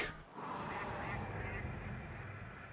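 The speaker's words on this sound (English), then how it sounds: "Haunted duck call." A haunted duck call from the Shadows Over Loathing video game gives a steady, nasal quacking honk that fills the clip as a continuous game sound effect, moderately loud and with no talking over it.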